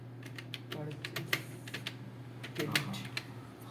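Fingers type quickly on a computer keyboard, a close, fairly quiet run of rapid clicking keystrokes under a low steady hum, with faint speech in the background.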